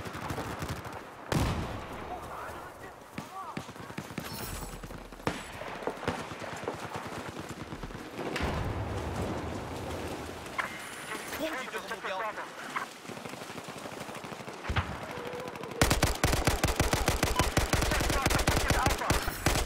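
Bursts of AK5C assault rifle fire in Battlefield 4, close and loud, scattered through the scene with other battle noise and a long sustained volley near the end.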